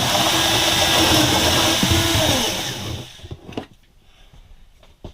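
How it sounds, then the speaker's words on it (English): Power drill enlarging the opening for a 12 volt outlet in a Coleman Lantern camper, a steady whirring bore for about three seconds, then stopping, leaving faint handling clicks. "drill the hole"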